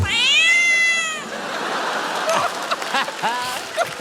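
A performer's voice imitates a cat meowing at a comedy stage show: one loud, drawn-out meow up front, then quieter scattered vocal squeaks and chirps over a noisy background.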